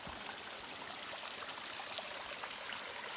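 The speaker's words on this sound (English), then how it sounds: "Wow, here's a neat little stream." A small mountain stream on the Appalachian Trail, a soft, continuous babble and trickle of water, steady and close, heard on its own without voices.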